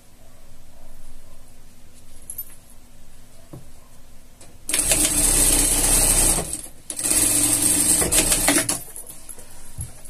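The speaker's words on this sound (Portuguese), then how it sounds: "agora sim vamos na overlock, dar acabamento aqui no filete da frente" An overlock sewing machine finishes the front edge of fabric for a scout costume, running in two loud, steady bursts of rapid mechanical whirring separated by a brief pause, with quiet room tone before it starts.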